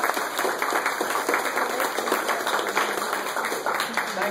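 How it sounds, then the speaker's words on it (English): An audience at a town council candidate forum applauds, close and loud, with individual sharp hand claps standing out in a continuous round of clapping. "will you join me in a round of applause for us?"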